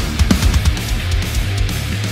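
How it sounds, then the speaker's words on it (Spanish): Programmed drum track playing a snare drum fill: a quick run of punchy snare and kick hits over a steady backing, loud and close, with no talking. "ahí mete el fill de redoblante"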